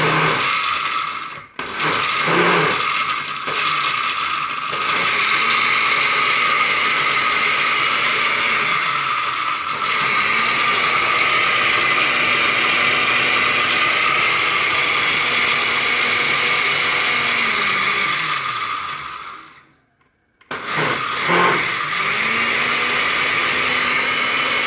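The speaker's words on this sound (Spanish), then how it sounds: "Metemos todo esto en la licuadora y lo vamos a convertir en polvo" A household blender grinds dried seasoning ingredients into powder, a loud continuous whirring motor roar with a brief start, a steady run, then a short cutoff before it restarts.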